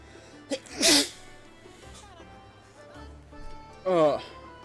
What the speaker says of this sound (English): Yeah, I'm gonna be sneezing for a bit.